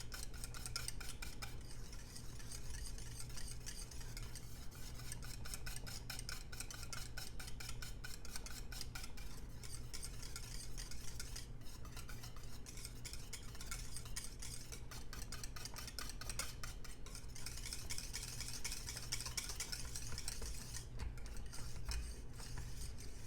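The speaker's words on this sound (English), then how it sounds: "Be sure and get your whisk into the corners of that saucepan." A whisk scrapes and stirs thickening fudge cake mixture in a small saucepan, a close, continuous rhythmic scraping with light metallic ticks and no talking.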